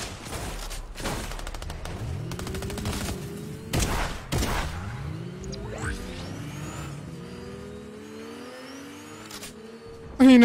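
A car driving in the video game Fortnite, its engine whining and revving in rising and falling sweeps while bursts of gunfire crack out intermittently, loud and close with no talk.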